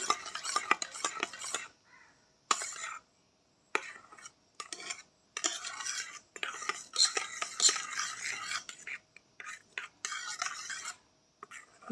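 Homemade skin-whitening soap mixture stirred in a bowl with a utensil, quiet scraping and clinking strokes in an irregular rhythm with short pauses, close and soft, with no talking.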